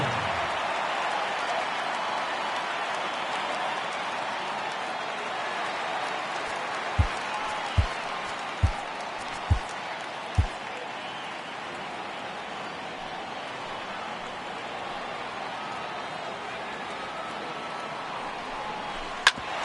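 Steady crowd noise from a virtual baseball stadium in MLB The Show 18 during a Cubs versus Dodgers game, a constant wash of distant crowd murmur and applause with a few sharp clicks, no voices over it.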